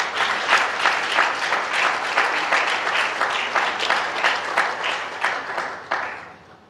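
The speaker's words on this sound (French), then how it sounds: "J'ai pensé que quelqu'un allait acclamer tout simplement." An audience at an entrepreneurship conference breaks into sustained applause, many hands clapping in a dense, even wash that holds steady for several seconds before tapering off.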